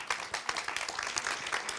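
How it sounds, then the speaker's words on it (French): Applause from an audience at a conference talk, with dense clapping throughout, fairly close and steady across the short stretch. "Je vais vous demander d'applaudir Auguste Coudray."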